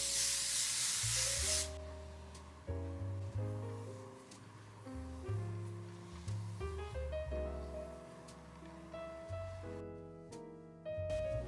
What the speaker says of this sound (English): Kind of tempted to spray the bang because I don't want it to fall